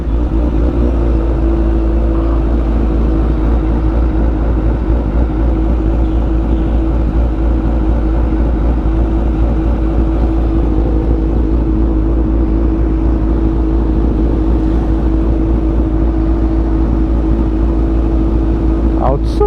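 Street traffic around a sportsbike in town, a loud steady engine rumble and road drone running throughout, with voices talking over it.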